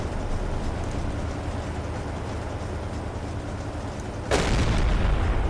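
A U-boat deck gun in the Silent Hunter 3 submarine game fires once near the end, a sudden loud boom breaking out of a steady rumbling engine and sea background.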